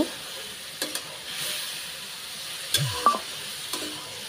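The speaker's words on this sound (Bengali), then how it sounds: "তো এটা একটু নেড়ে চেড়ে নিব মাংসটা ভালোভাবে কষানোর জন্য।" Marinated meat for a vegetable dish fries in a wok over high heat, a soft steady sizzle with a few scattered spoon clinks and scrapes, fairly quiet and close, with no speech.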